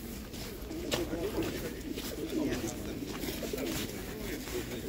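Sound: pigeons cooing

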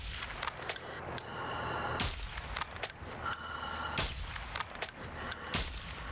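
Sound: shotgun gunfire in Warzone 2 video game

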